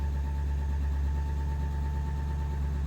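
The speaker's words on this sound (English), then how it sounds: "Truck's running." A 2018 Nissan Titan XD with the Cummins diesel engine idling after a start, a steady low rumbling drone with a faint whine, even and close.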